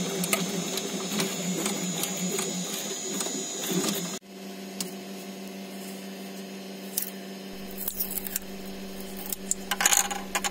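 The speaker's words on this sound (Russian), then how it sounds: "Печатается, ничего не отлипает." A 3D printer lays down a large PETG part on a clean glass bed, giving a steady mechanical whir of stepper motors with small ticks and clicks, loud and close, with a sudden shift in tone midway.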